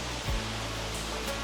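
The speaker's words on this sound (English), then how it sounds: "this is the main waterfall. This is actually where the water is dropping." The main waterfall in Osun State, Nigeria, roars as a dense, steady wash of falling water, loud and close, filling the whole moment without a break.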